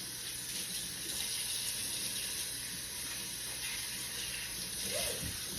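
Tap water runs steadily into a kitchen sink to fill it with dishwater, a continuous close-up gushing hiss with no one talking.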